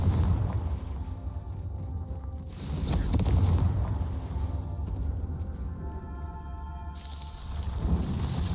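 Spell blasts from the Confringo explosion curse in Hogwarts Legacy rumble as deep, sustained booms over a continuous low game soundscape, with a heavier surge partway through.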